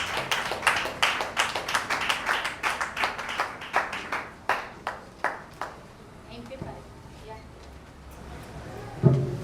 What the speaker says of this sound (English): Now we clap for Miata.